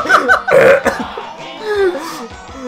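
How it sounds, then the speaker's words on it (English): A man lets out a loud, drawn-out burp right up close, mixed with laughter and other voices over the burp. "burp activated"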